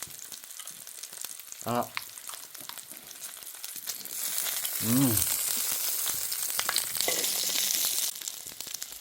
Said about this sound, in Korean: 대파를 조금 썰어 놓고 구웠습니다